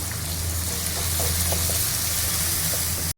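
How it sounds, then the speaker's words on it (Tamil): Tomato and onion sautéing in a pan with turmeric, salt and garlic paste for a spleen fry, giving a steady close hiss and crackle of frying throughout with a few faint stirring clicks, no talking. "இந்த தக்காளி வெங்காயம் வதக்கி எடுத்துடலாம்"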